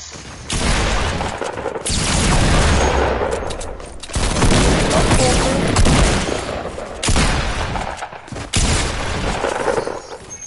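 Loud, sustained shotgun fire in a console shooter game, coming as dense blasts that run together in long volleys of several seconds each, separated by brief gaps, very close and overwhelming.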